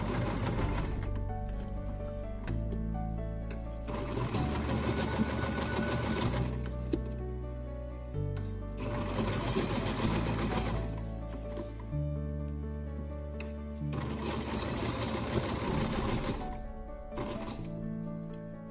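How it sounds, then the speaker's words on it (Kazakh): A sewing machine stitches a textile mosaic patch, running in several sustained whirring bursts separated by short stops, loud and close with a tonal background. "Осы көзді төрт жағынан да тігіп шығамыз."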